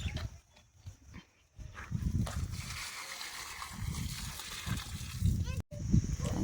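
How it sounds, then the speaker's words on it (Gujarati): Water from a bucket splashes and sloshes onto a small fig plant bearing young fruit in a compact home vegetable garden, uneven pours close by, with people talking over it. "તો આને તો પાણી પાવું જ પડશે."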